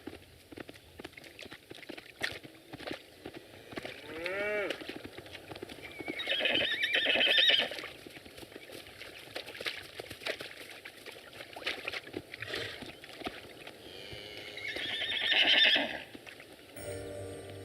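Hooves clip-clop on hard ground as horses are let out to pasture beside a marsh, with loud whinnies and neighs breaking out now and then, some close by.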